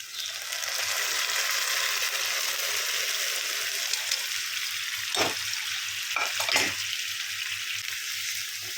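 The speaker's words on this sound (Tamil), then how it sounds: "நல்லா வணங்கின பின்னாடி நம்ம வேக வச்ச மட்டன் எடுத்து இதில் ஊற்றிடலாங்க" Cooked mutton frying with sautéed onions in a pan for mutton chukka gravy, a steady soft sizzle throughout with a few brief clatters of stirring near the end, no talking.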